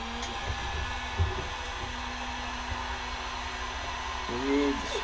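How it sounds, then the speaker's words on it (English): A heat gun blows a steady, even airy hiss while heating a fishing jig head, with a faint hum running underneath and a short bump partway through. "Going to apply heat with the heat gun now"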